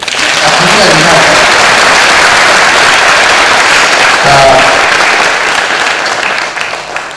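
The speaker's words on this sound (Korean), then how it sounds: "박수 한번 주세요" An audience at a political speech by a city mayor breaks into loud, sustained applause that fills the hall steadily, with a voice briefly heard at the start.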